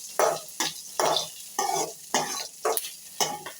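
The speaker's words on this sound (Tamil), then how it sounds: "நல்லா வந்து வெங்காயம் பொன்னிறமாக வதங்கட்டும்." Onions and green chillies sauté in a pan while a spatula stirs them in regular strokes, each pass raising a short burst of sizzle, about seven even scrapes in a row, close and clear.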